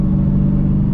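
A Dodge Hellcat's engine rumbles loudly and steadily up close, a deep, continuous drone holding level without a break.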